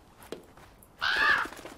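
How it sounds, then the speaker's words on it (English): A crow caws once in the video game Draugen, a loud harsh call lasting about half a second that rises sharply out of quiet ambient background. "Get away, bird."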